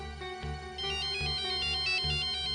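A mobile phone ringtone plays loudly and alone, a repeating electronic melody with a steady pulsing rhythm, ringing during a CID Special Bureau crime drama scene.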